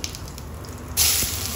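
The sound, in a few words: cumin seeds spluttering in hot oil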